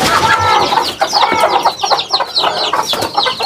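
Aseel chickens scuffling in a poultry pen, with loud, close, rapid clucks and squawks in busy overlapping bursts throughout.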